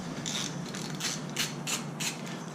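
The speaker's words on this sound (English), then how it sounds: "take your ratchet and socket or open end wrench or adjustable wrench, whatever you're deciding to use, and loosen the 2 outer nuts" Ratchet wrench loosening the outer axle nuts on a bicycle front wheel, a close, steady rapid clicking in repeated short strokes, alone with no talk.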